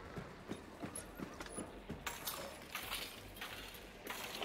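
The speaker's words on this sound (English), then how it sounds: "it could just be ambient horse noises" Ambient horse sounds in a video game: hoof clip-clops tap in an irregular rhythm at moderate distance, set against a steady background hiss and wash of game ambience.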